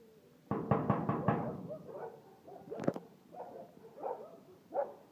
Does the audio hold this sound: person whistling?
no